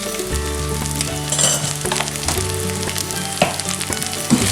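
Minced black rice sizzles steadily in a hot pan while nutmeg is stirred through, giving a loud, close, continuous frying hiss with soft scraping from the stirring and no voices.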